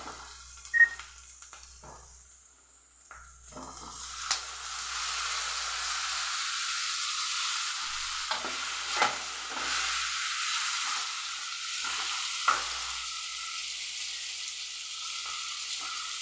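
Onions and tomato pieces fry in a pan with a steady, broadband sizzle. It sits close and fairly loud, with a few sharp clinks and spatters along the way and no talking.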